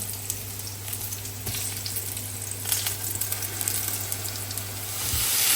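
Eggplant fries in hot oil in a home kitchen, giving a steady, dense sizzle and crackle throughout, close and continuous, with a low electrical hum underneath and no talking.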